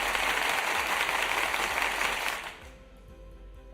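Applause for a live online data science revision session sounds as a dense, steady patter of many hands clapping. It continues for about two and a half seconds, then fades to near silence.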